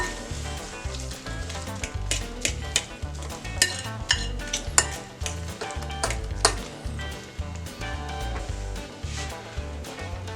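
Bread pudding batter with sugar being mixed in a bowl, rhythmic scraping and clattering strokes over a steady musical background, no speech.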